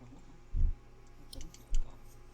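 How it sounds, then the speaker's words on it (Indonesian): A few soft clicks from the timer dial of a two-door refrigerator being turned by hand, three short quiet ticks spaced irregularly over a low steady hum. "Kalau terlewat, ulangi lagi sampai suara klik 1 kali"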